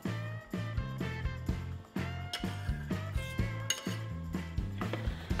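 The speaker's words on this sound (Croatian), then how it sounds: "Dobro ću ih ručno izmiješati i nakon toga dodati i želatinu da sve bolje poveže." Cream and melted white chocolate being hand-mixed in a bowl for a no-bake Oreo cheesecake, with a rapid, steady run of utensil clinks and scrapes against the bowl, close and alone over a faint music bed.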